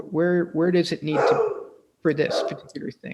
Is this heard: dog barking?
yes